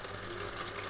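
A small splash of water poured into sizzling masala for murgh cholay, a brief gurgling trickle lasting under a second, fairly close and steady.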